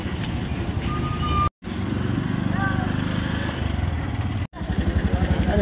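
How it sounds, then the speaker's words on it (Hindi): A motorcycle ride, with a close, buzzing engine drone that runs steadily and cuts out in two brief gaps before resuming. "हम जा रहे बाइक पर।"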